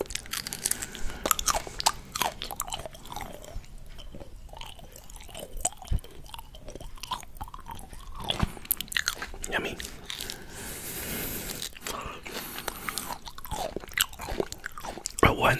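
Close, intimate chewing of kumquats, with wet squishy bites and crisp crunches repeating throughout, faint speech in between.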